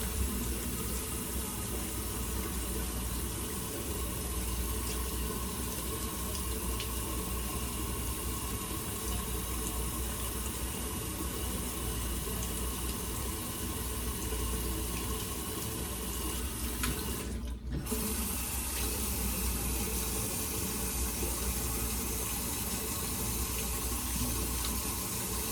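Steady running tap water pouring into a sink while a hand is wetted during a wet shave, a continuous close hiss with a brief interruption midway.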